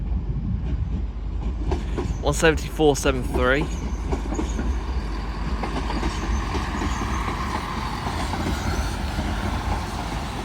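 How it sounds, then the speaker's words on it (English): A Northern Trains Turbostar diesel multiple unit pulls into Doncaster station bound for Hull, a steady rumble of engine and wheels running throughout while a voice speaks briefly over it near the start. "Arriving in now is another Northern Trains Turbo Star bound for Hull"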